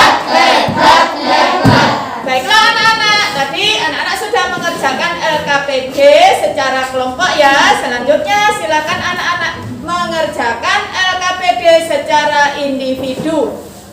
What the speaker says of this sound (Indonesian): Coba kita tepuk hebat untuk kita semua